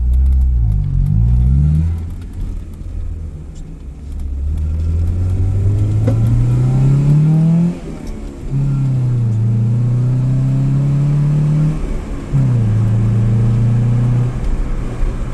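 Fourth-generation Honda Prelude with a manual gearbox driving along, its engine loud and close as it revs up through several gears, each climb in pitch dropping sharply at the shift before rising again.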